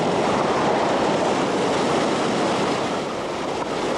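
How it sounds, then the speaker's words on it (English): Rock-filled muddy floodwater rushes steadily down a normally small runoff ditch during a February 1996 flood, a loud, continuous broadband roar with no pauses and no voices. "Rock-filled muddy water flowed steadily"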